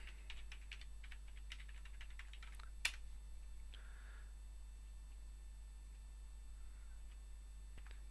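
Website address being typed on a computer keyboard: a quick run of light, close key clicks with one sharper tap partway through, then mostly quiet with a low steady hum.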